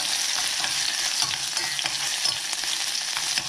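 Chicken with onion, garlic and ginger fries in a pan, a steady close sizzle with crisp popping and stirring clicks throughout, no voices.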